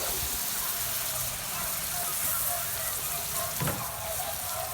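Cooking wine poured over melting butter in a pan on a Member's Mark kettle grill for New Orleans BBQ shrimp, giving a steady close hiss and sizzle with a brief louder splash near the end.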